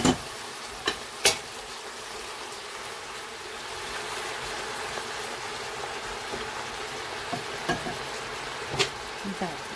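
Tripe sizzling as it is stirred in a pan for a Moroccan tripe stew, a low steady fry broken by a few sharp scraping clicks of the spoon.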